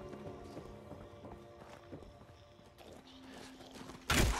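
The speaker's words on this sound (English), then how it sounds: "I hear footsteps." Irregular footsteps thud and clop at a steady walking pace over a low ambient hum, ending in a sudden loud noisy burst.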